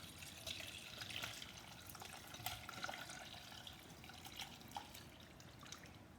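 Broth for ham and beans trickles and drips as it is strained, a faint, steady splashing of liquid with a few brighter drips standing out.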